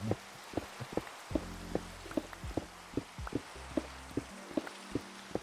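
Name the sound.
rain in Minecraft (video game)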